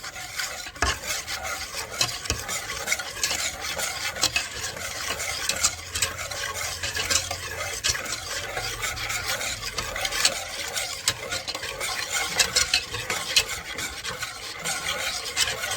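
Spiced marinade being mixed by hand into raw swan meat for barbecue, a steady wet rubbing and squelching with occasional soft clinks of a bowl, close and continuous with no voices.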